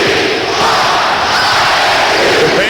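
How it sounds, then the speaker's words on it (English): Bradley Braves home crowd at a 1988 Missouri Valley Conference tournament college basketball semifinal chanting in unison, a loud steady roar of many voices filling the arena. "chant of "We want ISU" from the Bradley crowd"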